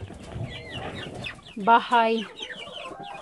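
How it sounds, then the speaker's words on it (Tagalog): Farm chickens clucking nearby, a few loud cackling calls rising in the middle of the stretch over softer background clucks, with a person talking at times. "Lumabas ng aking manok."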